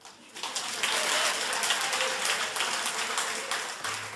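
Sustained applause from a lecture audience, a dense wash of many hands clapping that swells quickly after a quiet start and holds steady throughout.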